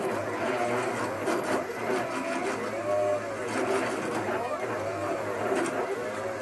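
CNC router converted from a Mach3 controller to FluidNC runs a job with the spindle off, giving a steady mechanical drone with rising and falling stepper-motor whines as the axes move, continuous and fairly loud with no talk.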